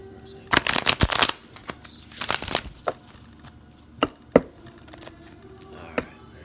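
Tarot cards being shuffled by hand in several quick riffling bursts, with crisp papery flutters followed by a few sharp taps and slaps as the deck settles, close and fairly loud, without speech.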